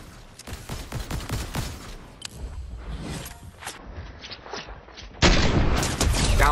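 Rapid bursts of Fortnite gunfire, clustered shots and fast volleys crackling close up, with short pauses and shifting game sounds between bursts, ending in a louder sustained roar.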